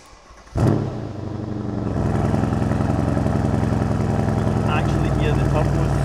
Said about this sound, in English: Actually hear the turbos spooling up.